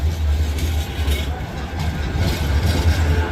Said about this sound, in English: They've taken the tram back into central Manchester.